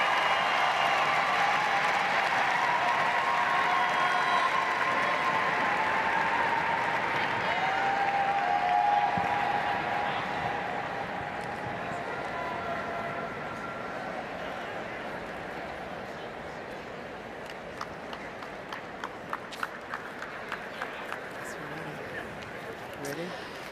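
A large crowd at the Westminster Kennel Club Dog Show applauds and cheers loudly in a sustained roar that slowly fades, with scattered claps near the end and an announcer talking over it.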